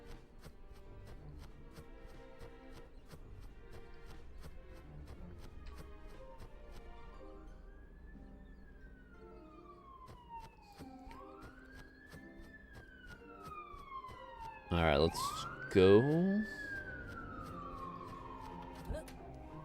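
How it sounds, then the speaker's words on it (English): A faint ambulance siren wails in the background outdoors, its rising and falling tone sweeping several times and swelling louder near the end, with someone talking over it. "I don't know if you guys can hear the siren in the background"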